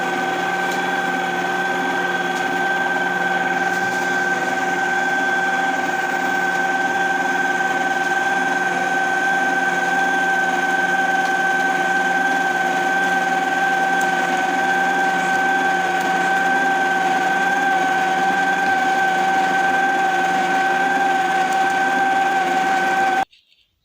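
Electric mixer beating kahk dough at low speed, a steady whirring motor hum with a constant pitch, running loud and unbroken for the whole stretch before it stops abruptly at the end.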